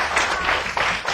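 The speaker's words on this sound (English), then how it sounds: "Give him a clap." An audience of children and adults claps for a young boy at a school assembly, a short burst of dense, even applause close by.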